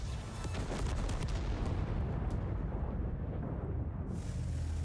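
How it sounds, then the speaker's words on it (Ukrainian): Tier XI heavy tank cannon shots and volleys in World of Tanks: dense rolling booms and rapid heavy gunfire blend into a continuous loud barrage with no pauses. "Влучні поодинокі постріли і гучні залпи"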